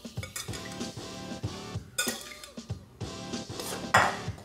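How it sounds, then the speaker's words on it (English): Fried rice made from microwave-preheated leftover rice is ladled into a pan of stir-fry with the heat off, giving close metal clinks, scrapes and clatter of utensil against pan in an irregular rhythm, without talk. "Now you're gonna ladle in your rice."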